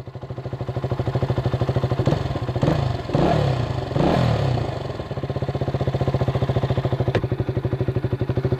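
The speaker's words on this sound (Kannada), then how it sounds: "ಸೌಂಡ್ ಕೇಳಿಸೋರಿ, ಸೌಂಡ್ ಐಡಿಯಲ್ ಒಳಗೆ ಹಿಂಗೈತೆ ಸೌಂಡ್." A KTM RC 200 BS3 motorcycle idles in neutral around 1500 rpm with a steady, rapid thumping pulse heard up close, briefly swelling with a short rev midway before settling back to idle.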